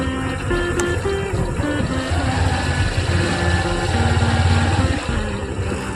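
A motorcycle engine runs steadily with a rider and passenger aboard, a continuous loud drone with low rumbling throughout and no clear talking.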